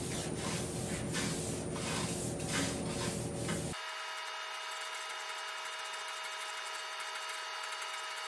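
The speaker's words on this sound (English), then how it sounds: "got to be careful when I'm block sanding here, just to let it glide" Steady, even rasping of a sanding block rubbed across a body panel of a 1985 Jeep CJ7, continuous and close, with the texture shifting to a smoother, thinner scrape midway.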